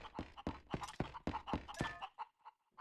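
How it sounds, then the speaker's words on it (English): Chickens cluck in the video game The Legend of Zelda: Twilight Princess on GameCube, sounding as a quick run of about seven clipped, evenly spaced clucks that trail off at the end. "I hear the clucks."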